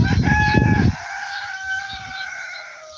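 A farm rooster crows loud and close at the wrong time of day, one drawn-out call whose final note tails off into quieter background clucking.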